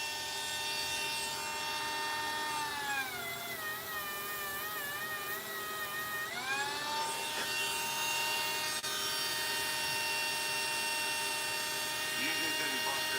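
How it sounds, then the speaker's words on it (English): A small handheld rotary tool, a Dremel or Bauer, whines steadily at high speed with clear harmonic tones that dip and rise as it loads and frees up during jewelry box work, running continuously at moderate distance. "I have two rotary tools. This one, the Bauer, and then I have my Dremel."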